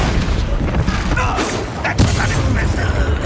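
A Confringo spell explodes in Hogwarts Legacy, with booming, thudding blasts and a sharp crack near the two-second mark over a dense, rumbling battle din.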